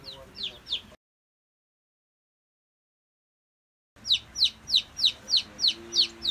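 High, rhythmic peeping of chicks, a few chirps, a silent gap, then a steady run of loud, evenly spaced cheeps close by.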